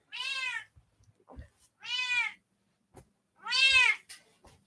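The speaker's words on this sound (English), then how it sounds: "if you hear a cat in the background like that" A female house cat meows three times in separate drawn-out calls with short gaps, fairly clear and close, with a few small knocks and thumps in the quiet room between them.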